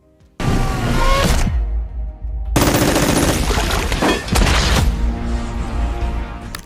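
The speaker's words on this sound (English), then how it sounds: "Spielberg's team used actual World War II-era weapons, firing them into sand, metal, and water." Real WWII-era weapons fire in the battle sound of Saving Private Ryan: loud, dense bursts of automatic gunfire and heavy impacts into sand, metal and water, continuous and overwhelming after a short quiet start.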